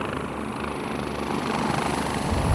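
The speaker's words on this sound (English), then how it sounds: "Helicopter's coming into position now." Helicopter at an Australian rally event moves into position beside a Proton rally car, giving a steady, loud rotor and engine roar that builds slightly toward the end, with no talk.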